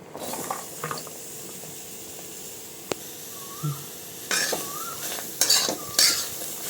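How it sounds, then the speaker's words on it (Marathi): Onions rattle and scrape in a dry, hot pan in a few short bursts with quiet pauses between, and nobody talks. "आपली कढई तापलेली आहे आता आपण त्याच्यामध्ये हे कांदे टाकून घेऊ"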